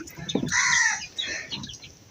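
A chicken close by on a village house veranda lets out a couple of loud, drawn-out squawking clucks, with short pauses between them.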